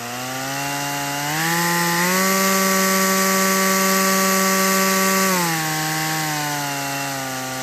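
Milwaukee M18 Fuel battery string trimmer whines steadily up close, its motor pitch rising as the trigger is squeezed, holding at a higher speed for several seconds, then dropping back to a lower hum.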